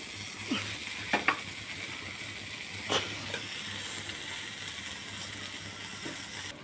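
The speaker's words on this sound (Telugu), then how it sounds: "ఇప్పుడు రైస్ ఒక్కొక్కరు వేసుకొని కలబెట్టుకుందాము" Rice stirred by spoon into fenugreek leaves frying in a pan for Karnataka-style menthi rice: a steady soft sizzle with a few scraping clinks of the spoon against the pan, close and alone.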